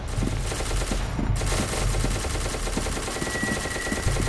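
Rapid automatic gunfire in the video game SCP: Secret Laboratory, loud and close, a dense continuous stream of shots with sharp repeated cracks across the whole stretch.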